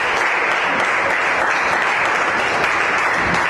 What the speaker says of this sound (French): Je vous invite à acclamer pour les candidats